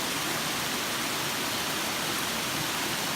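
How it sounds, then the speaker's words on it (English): A small waterfall on Comer's Creek along the Appalachian Trail in Virginia, heard from the bridge above, pours in a loud, continuous broadband rush with no talking over it. "There's the waterfall."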